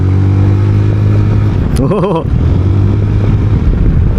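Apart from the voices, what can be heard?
ZONTES 368G scooter engine accelerating in S mode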